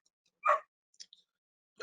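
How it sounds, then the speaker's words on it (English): Dogs bark in a home during an online presentation, a few sharp separate barks and a small yip with silence between them, fairly close and fairly loud. "I apologize for my dogs."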